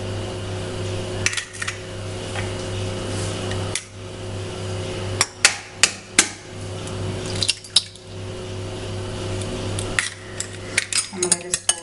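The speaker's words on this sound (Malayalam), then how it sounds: "നമ്മളൊരു സ്പൂൺ കൊണ്ട് അത് ബീറ്റ് ചെയ്ത് കഴിഞ്ഞ്" Spoon rattling against a bowl while beating cracked eggs for milky appam batter, with scattered sharp clinks and taps in irregular bursts over a steady low background hum.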